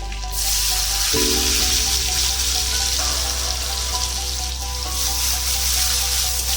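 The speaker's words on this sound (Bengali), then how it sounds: "ওই তেলের মধ্যেই আলুগুলো ভেজে নেবো।" Potatoes coated in salt and turmeric fry in hot oil left over from frying fish, a loud, steady, close sizzle that keeps going without a break.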